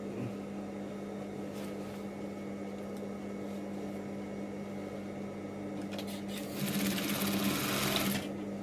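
A sewing machine runs steadily stitching the inseam of cotton-style shorts, a close, fairly quiet mechanical whirr that grows louder and busier near the end, with no talking over it.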